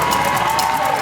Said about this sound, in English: All these Lapwai fans on their feet to cheer on the Wildcats.